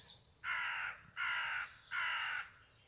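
Crows caw outdoors calling to their fledgling: three long, harsh caws evenly spaced, clear and fairly close, with a faint higher call at the start.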